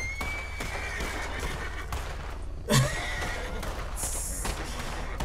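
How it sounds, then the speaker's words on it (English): A panicking horse in a western video game neighs and whinnies with rising calls, with a sharp gunshot-like crack partway through over constant game ambience. "Horse is all freaking out."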